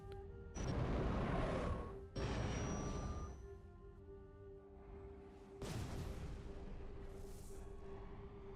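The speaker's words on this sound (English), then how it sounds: "Nice little explosion." Booming explosions from the Star Wars: Empire at War strategy game, with two loud blasts in quick succession followed by a third, each trailing off into a rumbling tail over a steady hum.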